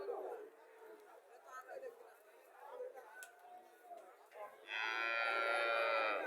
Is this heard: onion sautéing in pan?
no